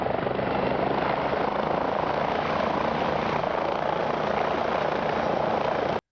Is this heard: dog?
no